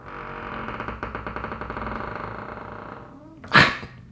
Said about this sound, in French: Il arrêtait pas d'aboyer.